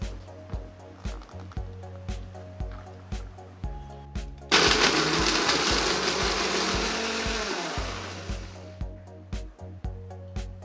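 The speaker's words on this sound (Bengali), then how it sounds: "25 গ্রাম কাজু বাদাম 1/4 কাপ বা 60 মিলি জল দিয়ে বেটে নিতে হবে।" A kitchen blender grinds cashew nuts with a little water in a loud, roaring burst of about four seconds. Quieter rhythmic clicking sounds before and after it.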